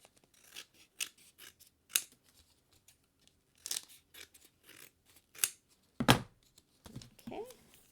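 Scissors snip around a card shaker element in a series of short, crisp cuts, close and fairly quiet, with pauses between the snips.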